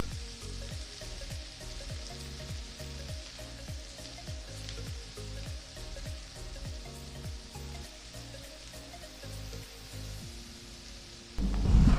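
Chopped tomato and onion frying in oil in a pan, a continuous close sizzle with regular stirring scrapes, ending in a louder clatter and no voices.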